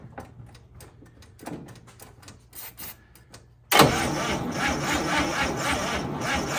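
A 1955 Chevy that sat parked for 40 years cranks as someone tries to start it, brief faint clicks and attempts first, then a loud, steady churning roar close up.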